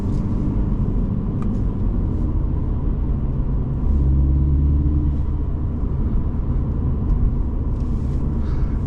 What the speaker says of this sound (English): Turbo spools up nice and quick.